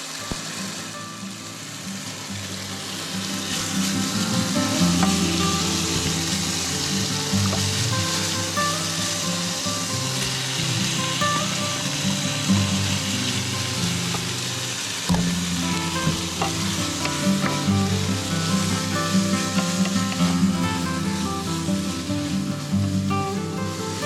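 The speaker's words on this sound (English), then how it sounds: "How cool is this, in cooking a stir fry on the induction cooker?" A stir fry cooks on an induction cooker at a campsite in Judbarra National Park, giving a continuous close sizzle with scraping stirs and clinks over a steady ambient wash for a long stretch.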